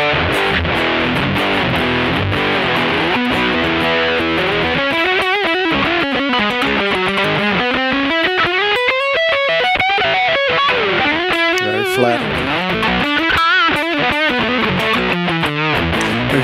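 Loud, heavily distorted electric guitar plays a continuous melodic line with thick, buzzing overdrive from a distortion effect programmed on a Sigma DSP ADAU1452, with no voices.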